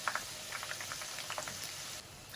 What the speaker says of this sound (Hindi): इसको हमने मीडियम आंच पे फ्राई करना है।